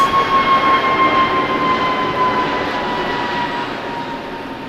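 A Delta airliner takes off from runway 6 right at LAX, its jet engines a steady, heavy roar with a faint whine on top, fairly close and easing slightly as it climbs away.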